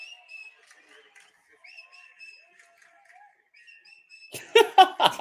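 A Vanderbilt baseball fan at an SEC game whistles loudly in long, sustained high tones, repeated again and again over quiet background, before a burst of louder voices and cheering near the end.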